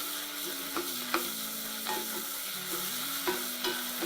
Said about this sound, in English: I'll give it a quick stir and then I'll add my offal.